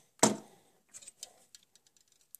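A small metal gear from a Volkswagen Super Beetle speedometer hits the ground with one sharp, close clack, followed by a string of faint light ticks and taps as it settles.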